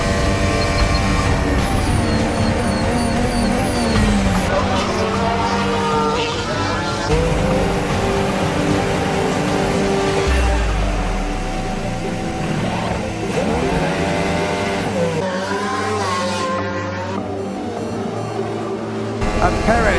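Formula 1 cars race, with Hamilton's Mercedes overtaking down the inside, high-pitched engines screaming and shifting over continuous commentary, several cars blending in a dense, steady roar.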